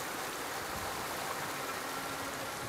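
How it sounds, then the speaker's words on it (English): A waterfall in the video game Ghost of Tsushima, heard as a steady, loud broadband rush of falling water with no pauses. "Oh, under the waterfall, okay."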